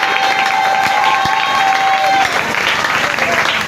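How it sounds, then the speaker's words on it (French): A church congregation at a celebration service applauds and cheers loudly, dense sustained clapping from a large crowd with whoops mixed in, close and continuous throughout. "Est-ce qu'on peut acclamer très fort?"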